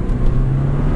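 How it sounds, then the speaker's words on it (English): A Porsche 944 Turbo with 123,000 miles pulls hard in second gear, its engine a loud, steady, close-up drone for about a second. "the second gear acceleration is divine, frankly"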